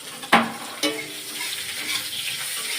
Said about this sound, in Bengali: চলো পেঁয়াজটা ভেজে নিয়ে আসছি